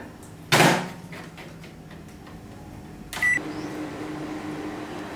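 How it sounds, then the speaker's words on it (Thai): A microwave oven door shuts with a solid thud, then the keypad beeps once and the oven starts up on high power with a low steady hum in a home kitchen. "เข้าไมโครเวฟเลย4นาทีครึ่งไฟแรง"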